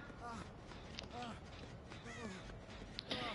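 A bird calls out in a few short, rising chirps and caw-like cries spaced across a couple of seconds, mid-distance, over steady low background noise.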